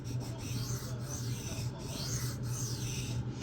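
Freehand knife sharpening on a stone: repeated gritty rasping pull strokes, close and fairly quiet, in a steady rhythm of roughly one pass per second without a break.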